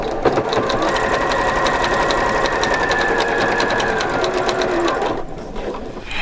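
A Janome 4120QDC-T sewing machine stitches a garment seam, running loud and close in a steady rapid mechanical whir with even needle rhythm, then slowing and stopping near the end.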